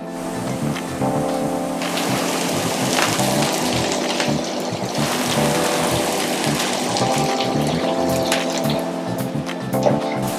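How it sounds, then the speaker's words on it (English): Onions sauteing in olive oil in a skillet, a continuous close, crackling sizzle with bursts of popping and spitting that keeps going the whole time. "Little olive oil in the skillet. We're gonna saute our onions."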